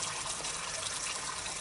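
Water flowing steadily from a spring at Rača Monastery near the Drina River, a continuous soft gushing rush heard close by and alone, with no voices.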